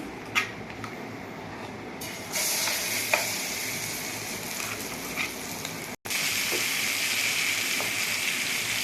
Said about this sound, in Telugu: ఉల్లిపాయ పేస్ట్ బాగా వేయించుకోవాలి